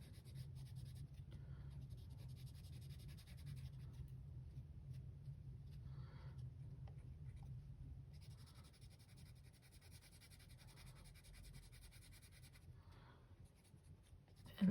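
Coloured pencil strokes in black and dark green shading over textured paper, a steady soft scratchy rubbing that runs continuously at close range with no talk.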